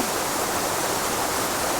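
River water flows steadily through dense forest, a continuous broadband rush with no breaks, close and fairly loud, with no voices over it.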